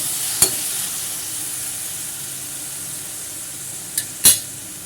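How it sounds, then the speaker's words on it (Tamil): Chopped tomatoes with garlic sauté in a pan under a soft, even sizzle, broken by a few sharp spoon clinks against the pan. "இந்த ஸ்டேஜில் தக்காளியை வந்து நல்லா பொடிசாக கட் பண்ணி சேர்த்துக்கலாம். சேர்த்து நல்லா வதக்கிக்கலாம்."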